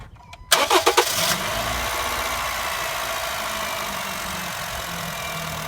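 Car engine starting after an oil change, a quick cranking stutter of a few beats that catches and settles into a steady, close idle.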